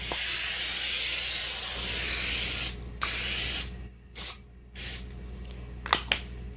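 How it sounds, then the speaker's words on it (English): Non-stick cooking spray is sprayed onto a baking tray in a continuous close hiss lasting about three seconds, followed by a few shorter spurts and light clatter from handling the tray. "just to make it easier, I've decided to use non-stick cooking spray"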